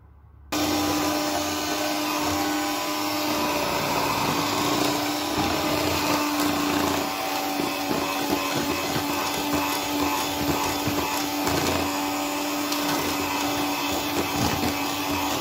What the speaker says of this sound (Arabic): غادي نبدا نطرب ليا هاد البياض ديال البيض مع هاد 250 غرام ديال السكر حبيبات